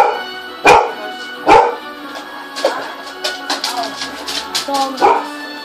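A dog in a household setting barks in several loud, sharp bursts followed by drawn-out, wavering howls and whines, with background voices and chatter running underneath throughout.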